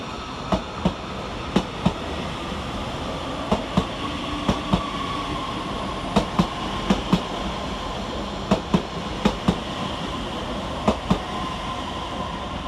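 Class 331 Northern electric units pass through Manchester Oxford Road station, steady rumble broken by regular clickety-clack wheel beats over rail joints, fairly loud and close.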